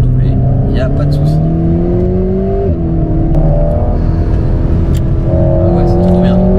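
An Alpine A110 S engine pulling hard under acceleration to overtake, a loud, steady rising drone heard from inside the car, with one brief dip at a gear change before the pitch climbs again.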